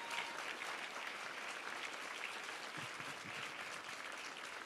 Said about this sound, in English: Let's give another round of applause to all these fabulous designers and students.